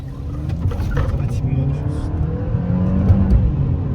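A 2009 Audi A3 accelerating hard, a steady rising engine drone heard from inside the car with road rumble, building in loudness over a few seconds as occupants talk.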